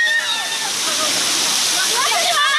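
Water pours steadily down a small waterfall, a loud continuous rushing splash that fills the scene, with children's voices and chatter mixed in over the roar.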